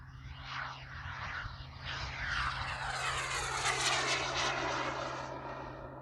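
A giant R/C T-38 Talon scale model jet sweeps past with a rising, roaring turbine whoosh that swells and shifts in pitch as it flies by, fairly close and loud.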